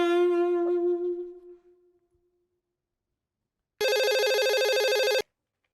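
An electronic landline telephone ringtone plays as one loud, steady burst of just over a second, following a long tonal fade and a stretch of silence.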